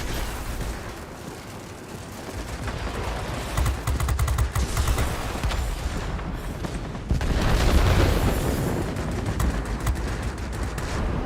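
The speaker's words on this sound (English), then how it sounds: "And now just shooting with his rear gunner." Rear gunner machine gun fire in World of Warplanes, rattling bursts layered over a dense roar of aircraft engine and distant booms, continuous throughout.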